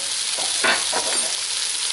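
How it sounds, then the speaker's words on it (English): Onion sautéing in oil in a pan, a steady close sizzle with a few stirring scrapes and no voices. "Saute that for a few minutes until the onion softens up."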